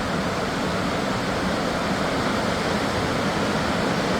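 A Spokane waterfall in a city setting roars as a steady, dense broadband rush of falling water, loud and continuous throughout with no voices.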